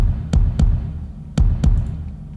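Four deep, boomy electronic kick drum hits, made in FL Studio with EQ and heavy compression, land in two pairs, each with a thumping low body and a short click on top.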